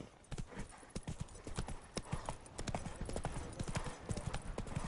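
The horse Roach gallops in The Witcher 3: Wild Hunt, its hooves thudding in rapid, rhythmic clip-clops that stay close and steady throughout.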